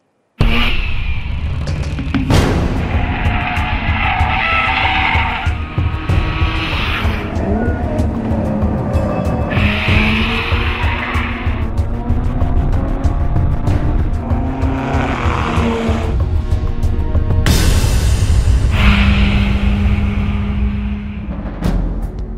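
A Mazda RX-8 with its 232-horsepower 1.3-liter rotary engine laps Laguna Seca Raceway, a loud, steady high-revving wail rising and falling through gear changes and corners, with brief tire squeal, heard alone throughout.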